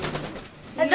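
Pigeons coo inside a netted cage, a brief low burble of soft calls with handling noise and movement, growing louder toward the end.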